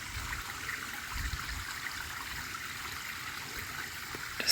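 A little brook babbling along a forest hiking trail in July, a steady soft trickle and gurgle of running water heard close by and alone, fairly quiet and continuous.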